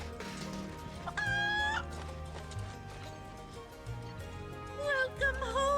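A chicken in the Final Fantasy 7 Rebirth video game clucks and squawks in short bursts, with rising, bright calls around a soft, rhythmic clip-clop of footsteps and low game ambience; no one speaks.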